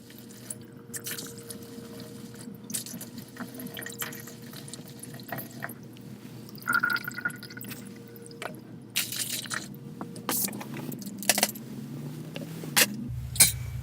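Water pours and trickles in a steady wet stream from a homemade water structure, with drips and squishy splashes, louder bursts toward the end and a sudden drop near the close.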